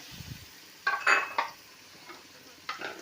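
Carrots and cabbage tipped into a pan of fried chicken for chicken spaghetti, with a few clinks and scrapes of a utensil against the pan and a faint sizzle underneath, fairly quiet with no talking.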